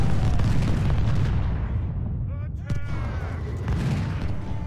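Gunfire and artillery in the Civil War strategy game Ultimate General: Civil War roll on as a dense, continuous rumble of battle with scattered cracks, while someone talks over it.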